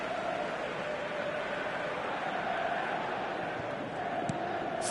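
A football stadium crowd gives a steady, broad murmur of applause and cheering for a forward tracking back, sustained and even for a few seconds, at a distance.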